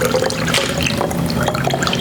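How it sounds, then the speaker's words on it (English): Water poured through a funnel into a bottle holding oil for a homemade lava lamp, a loud, close, continuous splashing gurgle of liquid filling the container, with no talking. "I'm going to fill it up most of the way again with the water."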